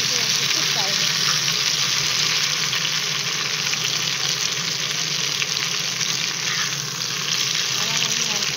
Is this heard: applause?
no